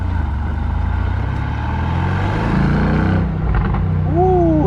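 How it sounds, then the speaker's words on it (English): A Mercedes AMG GTR Roadster with a 4-liter V8 in race mode, its exhaust droning loud and steady under acceleration with a couple of rising whine sweeps near the end. "the exhaust and the pops that you can immediately feel the thrust in this car"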